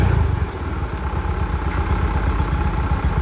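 Yamaha Mio i 125 scooter engine idling steadily up close, a continuous low throbbing rumble with light mechanical clatter and no voices.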